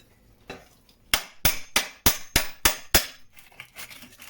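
A series of sharp, loud hammer blows, about seven in steady rhythm, striking a wooden post up close, with a few lighter taps before and after.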